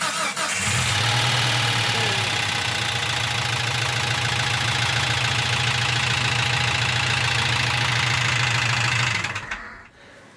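A Jeep engine that had been badly loud and rattling, cranking and catching, then running at a loud, steady, rough idle for several seconds before shutting off abruptly near the end.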